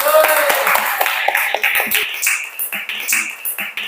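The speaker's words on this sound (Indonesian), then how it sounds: "Luar biasa, tepuk tangan dulu." A small group in a classroom claps in a short, uneven burst that thins into scattered claps, with voices mixed in.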